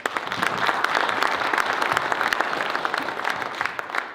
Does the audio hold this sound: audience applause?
yes